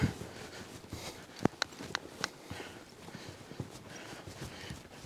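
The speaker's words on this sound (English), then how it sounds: "There's a nice little trot" A horse trots around cones, its hooves giving a steady run of soft clip-clop beats over faint background noise, with a few sharper hoof strikes standing out.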